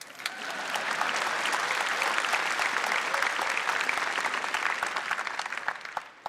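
Audience applause at the Samsung Galaxy Note 9 launch event, dense clapping that swells quickly, holds steady for several seconds, then tapers off.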